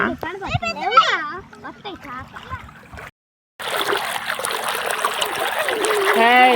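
A small stream trickles and splashes in a rural village, with children's voices over the water at the start, a brief gap, then denser splashing and flowing water that swells toward the end.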